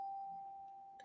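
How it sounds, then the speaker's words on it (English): A doorbell rings with a single sustained electronic tone that holds steady and slowly fades, heard indoors at moderate loudness with no talking over it, ending in a brief click. "my doorbell's going"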